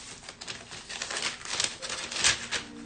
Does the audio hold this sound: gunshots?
no